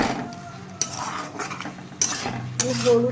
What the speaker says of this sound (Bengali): ভালো করে পোস্তটা মেশাবো